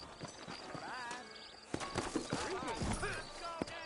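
Sturdy horses clip-clop in a New Ulster video game, a busy run of hoof beats with whinnies and game sounds around them, while a voice talks over much of it.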